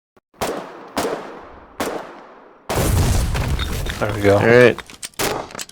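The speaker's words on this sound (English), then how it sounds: "just shoot it like once or however" Small arms gunfire in the Foxhole video game: three sharp, loud shots spaced about a second apart, then a dense burst of rapid fire with voices talking over it.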